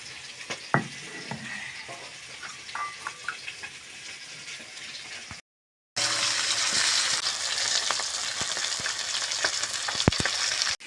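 Rui fish fries in hot oil with a steady crackling sizzle and occasional stirring clinks, pausing briefly before the frying resumes louder and denser, with no talk.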